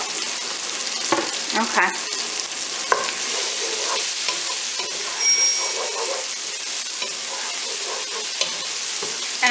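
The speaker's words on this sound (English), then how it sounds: "I'm just going to mix it around and try to cook some of the fat off of the pancetta" Pancetta sizzles and fries steadily in a pot for a pasta e fagioli, with repeated scraping stirs throughout and a brief spoken word near the start.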